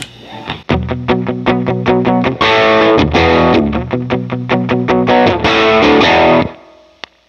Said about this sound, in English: It can sound really cool on like just a palm mute part as well.